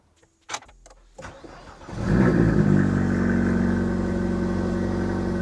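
A Renault Clio 2 engine cranks briefly with a few sharp clicks, then catches and settles into a steady, close idle that continues to the end.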